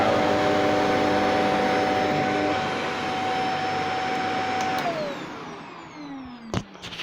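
A Shark Duo Clean NZ801UK vacuum cleaner with an electrical fault runs its motor, a loud, steady whine with tonal hum that winds down near the end, followed by a few clicks and knocks.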